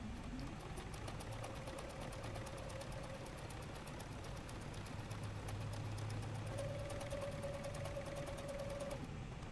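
Sewing machine stitching puppet fabric, a rapid steady mechanical patter running throughout, fairly quiet and close, with a faint hum rising and falling in the background.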